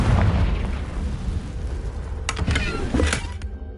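Confringo explosive curse spell cast in Hogwarts Legacy, a run of dense booming blasts with sharp bursts near the end, loud and close with a low rumble throughout.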